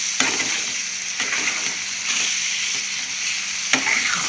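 Salted prawns sizzling in a pan as their water releases, with steady loud frying hiss and a few sharp scrapes of stirring, no voices.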